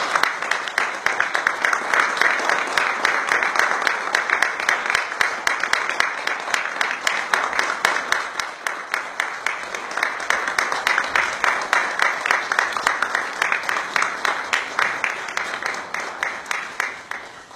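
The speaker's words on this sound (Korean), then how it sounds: "큰 박수로 맞아주시기 바랍니다." An audience claps loudly and steadily for about seventeen seconds as the presidents of Indonesia and South Korea enter a hall at Cheong Wa Dae in Seoul, the dense applause holding even before tapering slightly at the end.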